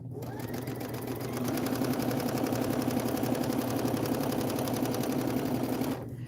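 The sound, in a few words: sewing machine sewing straight seams, chain piecing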